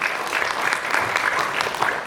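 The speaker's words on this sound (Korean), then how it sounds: "조규철 멘토님 위해서 큰 박수 부탁드리겠습니다." An audience at a youth employment mentoring concert gives a big round of applause for a Samsung Electronics mentor, continuous bright clapping throughout at a fairly strong, even level.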